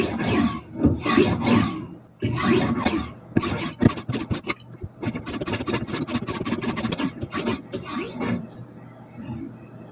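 A lapping stone rubs against a blade on a MAISTER fixed-angle knife sharpener, giving repeated rasping strokes with short pauses between them, then a faster run of closely spaced strokes, heard close and alone.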